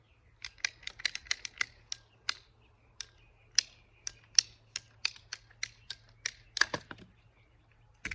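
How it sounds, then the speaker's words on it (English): A hand ratchet pipe cutter cuts PVC sprinkler pipe with a series of sharp, evenly repeated clicks, close and crisp, ending in a final snap as the cut finishes, with no talking. "we're going to go ahead and cut our PVC"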